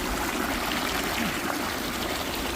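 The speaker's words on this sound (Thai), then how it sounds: "น้ำน้ำไหลลงมาจากเขาฝั่งนู้นนู่นเขาฝั่งนู้น" Steady rushing water from a stream flowing down from the hills in the German countryside fills the background, a constant broadband wash with no clear breaks.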